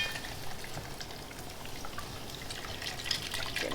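Beef broth hisses and sizzles into a hot pot of beef and barley stew while a utensil scrapes the bottom, a dense crackling wash of liquid with occasional clinks, close and continuous.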